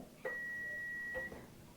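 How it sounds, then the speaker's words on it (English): A home oven timer gives a single long, thin electronic beep lasting about a second, quiet and somewhat distant, with a faint blip at either end and no voices. "there goes our oven timer"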